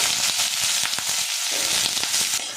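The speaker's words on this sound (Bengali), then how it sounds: "পেঁপেটা বেশ কিছুক্ষণ নাড়াচাড়া করে একটু ভাজা ভাজা করে নেব।" Diced papaya sizzles in hot mustard oil with a bay leaf, the frying loud and continuous, broken by soft scrapes and thumps as it is stirred.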